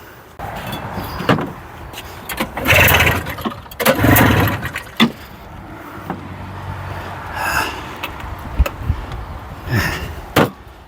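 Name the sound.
1981 John Deere snowmobile engine starting with new fuel pump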